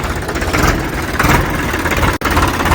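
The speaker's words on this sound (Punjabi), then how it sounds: "ਸਲਫ ਆਵਾਜ਼ ਚੈੱਕ ਕਰਿਓ ਬਾਈ ਟਰੈਕਟਰ ਦੀ" A Sonalika 45 tractor engine idles steadily up close, a loud continuous rumble with a brief dropout near the end.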